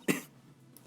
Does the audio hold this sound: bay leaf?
no